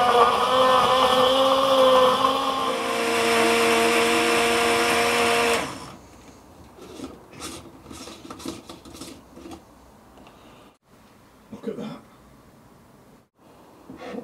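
A blender runs loud and steady, blitzing pineapple juice into an al pastor marinade, then cuts off sharply, leaving quieter kitchen clatter and a few brief knocks.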